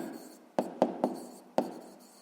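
Four short, crisp pen taps and strokes on paper while writing down an answer in a sixth-grade maths exercise, close and quiet over faint room noise.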